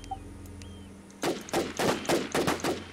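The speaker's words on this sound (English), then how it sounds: "let me switch to my pistol" Pistol fired in the zombie survival game WarZ: about six sharp, loud shots in quick irregular succession, preceded by a quiet stretch with faint game ambience and small tones.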